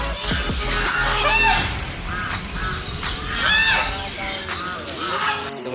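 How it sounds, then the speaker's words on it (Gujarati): Mixed bird calls fill a zoo's bird section, with honking, cawing and squawking voices overlapping in repeated bursts over a steady busy background, loud and close throughout. "તમને પક્ષીઓનો અવાજ પણ આવતો હશે."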